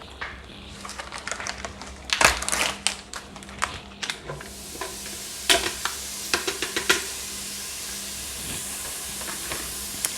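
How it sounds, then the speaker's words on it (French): Ingredients dropped into the bowl of a Cookeo multicooker set to fry: sharp clatters and crackles burst out at first, then settle into a steady sizzling hiss. "on va le mettre en mode pour frire et on va y mettre nos ingrédients directement dans la cuve"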